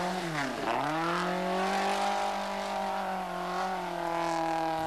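Group B rally cars on a muddy bend at the 1984 Lombard RAC Rally: a loud, continuous engine note that dips and climbs as revs change, sustained close-up with no talk.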